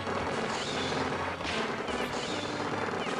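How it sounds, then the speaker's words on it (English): Steady, dense weapon fire in the Alien vs Predator video game, a continuous loud barrage of shots with no pauses and no talking over it. "I'm just gonna shoot away."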